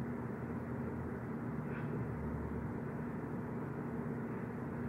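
An airplane in flight gives a steady, continuous engine drone with a low hum. It stays even and unbroken throughout, with no voices.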